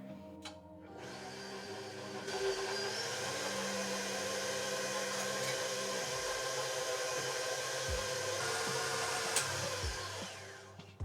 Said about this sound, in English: And I'm gonna stir again, mixing, combining everything together.